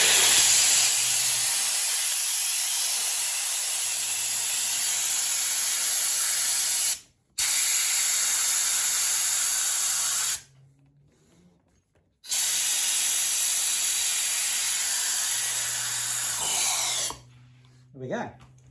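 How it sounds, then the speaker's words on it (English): A compressed air gun blows hard under a motorcycle handlebar grip on an Aprilia RS457, a loud continuous hiss in long bursts with brief pauses between them, close to the listener. "Shove an air gun up it, and just creates a gap between the tube and the grip."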